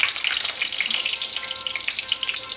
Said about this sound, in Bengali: তেল গরম হয়ে গেছে, পাঁচ ফোড়ন দিলাম, একটু জিরা দিলাম